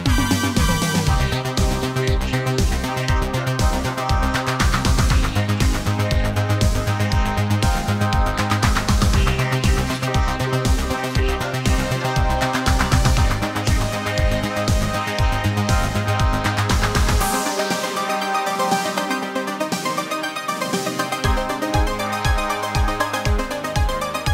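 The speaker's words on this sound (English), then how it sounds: "a simple string arrangement" A full song plays steadily with sustained strings layered over a driving beat; partway through the low end drops out briefly before the groove returns.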